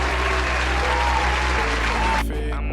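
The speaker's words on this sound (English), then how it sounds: "Please give a round of applause to our Rookie Award winners." Sustained applause at a football awards show honoring rookie award winners, a dense roar of clapping over a low steady hum that cuts off abruptly near the end.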